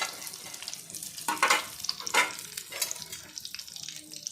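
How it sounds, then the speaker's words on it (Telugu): Bitter gourd pieces fry in a pan over high heat, with a sizzling crackle broken by a few louder bursts of stirring and scraping at moderate, close range. "కాకరకాయ ముక్కలు మొత్తం వేసేస్తున్నాను. కొంచెం హైలో పెట్టి ఒకసారి తీసుకుంటాను."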